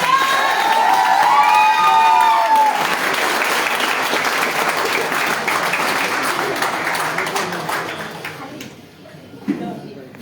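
A seminar audience bursts into loud, sustained applause with cheering, filling the space for several seconds before gradually thinning out, with voices mixed into the crowd noise.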